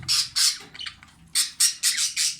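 Jumbo budgerigars squawk in loud, harsh bursts, two close calls followed by a pause and then a quicker run of four, each one near and clear with no talking.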